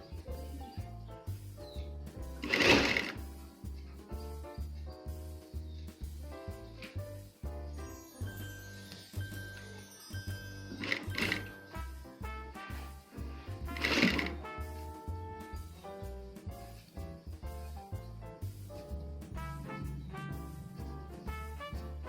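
A sewing machine stitches the collar of a kurti along marked margin lines. It gives a steady, rapid mechanical whir with a regular pulsing rhythm and a few louder bursts, heard close and alone.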